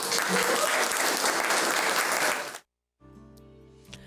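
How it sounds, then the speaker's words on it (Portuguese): Audience applause, a dense burst of clapping that continues for about two and a half seconds and then stops abruptly, followed by quiet music. "Uma salva de palmas para Jesus"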